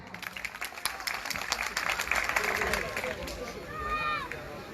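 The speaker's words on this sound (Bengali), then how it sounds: "গাজীপুরের জন্য জোরে একটা হাততালি" Applause from an audience at an entrepreneurs' conference and fair in Gazipur, a dense wash of clapping swelling through the middle of the clip amid crowd noise and a faint voice.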